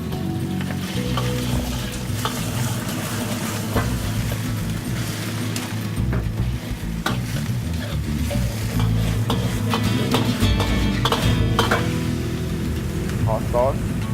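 Char kway teow rice noodles with egg are stir-fried in a hot wok, a dense steady sizzle with metallic scraping and clanks from the tossing, close and constant.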